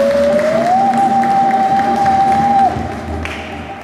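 Mourners at a funeral ceremony clap together, a dense, moderately loud applause with some cheering, while a sustained whistle-like tone rises and holds over it before stopping, and the clapping then fades.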